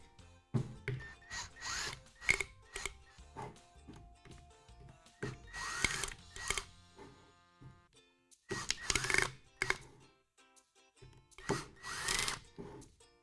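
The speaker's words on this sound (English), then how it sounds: "I'm going to take my drill here and take these screws out." A power drill backs screws out of a wooden mold for a concrete vase in short, close bursts of whirring and grinding, separated by brief pauses, with a longer gap before the last few runs.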